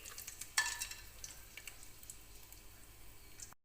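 Whole spices such as cloves, bay leaf, cinnamon and cumin frying in about three tablespoons of oil in a pressure cooker, a faint, steady crackling sizzle with a brief stirring clink near the start.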